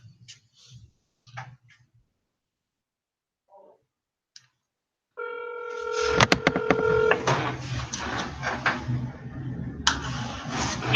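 A phone call being dialed: after near silence with a few faint noises, a loud run of rapid keypad tones and clicks starts, then a steady ringing or line tone fills the rest.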